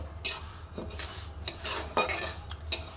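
A spoon scrapes and stirs moong dal as it dry-roasts in a pan, with repeated clinking scrapes against the metal and a faint sizzle, close and steady with no talk.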